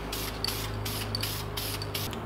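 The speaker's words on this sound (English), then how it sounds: "That's pretty heavy spray there. Spray can." A spray can lays finish onto a cabinet drawer in a steady, close aerosol hiss, broken by several short pauses between passes.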